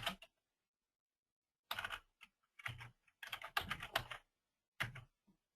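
Computer keyboard keys tapped to enter login credentials on a signing page, heard as short bursts of close, crisp clicking separated by pauses, with no talking.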